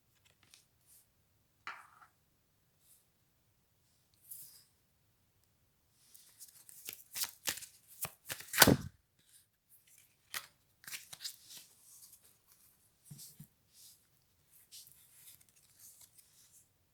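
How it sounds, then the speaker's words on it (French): A deck of tarot cards is shuffled in quiet bursts, with a few soft riffles and then a dense run of crisp card flutters and slaps in the middle, no voices present. "La carte. La carte."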